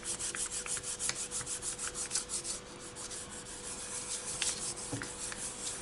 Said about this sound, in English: and burnish on this side as well